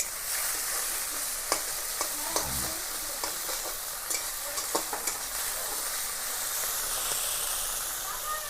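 Ginger, chili and cumin pastes fry and sizzle steadily in hot oil for a Bengali katla kalia fish curry, with a continuous hiss broken by scattered clinks and scrapes of stirring.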